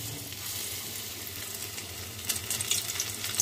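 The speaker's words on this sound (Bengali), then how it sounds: "আমি চিলি বোয়ালটা এটা ভাজা শুরু করি" Boal fish pieces frying in hot oil for chili boal, a steady soft crackling sizzle throughout, with a few brighter pops toward the end.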